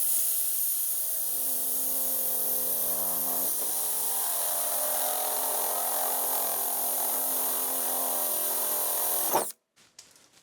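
A loud, steady whine of a power drill running continuously for several seconds while drilling into the metal hood of a BMW E36 M3, then abruptly stopping, followed by a few faint clicks.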